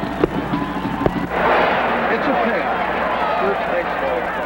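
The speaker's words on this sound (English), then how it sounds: "sets an enthralled crowd cheering amid a cascading backdrop of fireworks presented by Rockwell International" Fireworks crackle and pop over a cheering stadium crowd at the 1973 Liberty Bowl, NC State vs Kansas; a few sharp bursts come first, then a dense, sustained roar of crowd noise and crackling continues loudly throughout.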